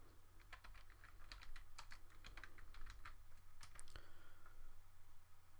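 Someone types a command on a computer keyboard in a quick burst of close keystrokes, with uneven rhythm and a few short pauses, ending in a final clack.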